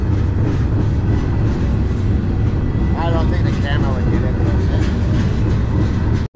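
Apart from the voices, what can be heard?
freight train rolling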